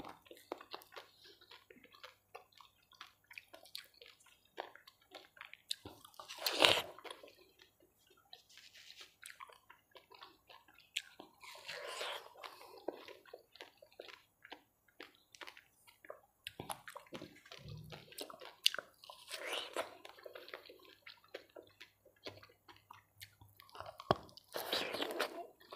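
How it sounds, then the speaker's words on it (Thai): Close-up chewing of fried sai tan with garlic, crunchy bites and wet mastication coming in repeated bursts with quiet gaps between, and no talking. "เคี้ยวไส้ตันอยู่"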